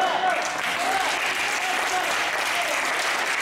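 Church congregation applauding during a sermon, a steady, dense wash of clapping that holds evenly throughout with no break.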